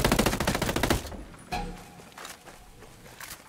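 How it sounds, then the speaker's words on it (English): Rapid automatic gunfire in the tactical shooter Ghost Recon Breakpoint, played in PvP, bursts loudly for about a second, then gives way to scattered quieter shots and faint movement. "Hostiles are firing."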